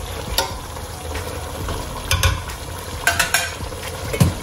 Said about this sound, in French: Là, je vais incorporer l'eau